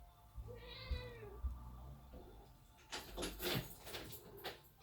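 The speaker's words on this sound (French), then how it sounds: "Excusez-moi, j'ouvre la porte, mon chat qui va sortir." A cat meows a few times, high and drawn-out, indoors while a door is opened to let it out, followed by a clatter and scraping of the door near the end.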